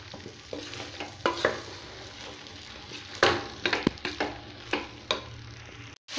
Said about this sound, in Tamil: ஒன்றா கலந்து விட்டுக்கலாம்.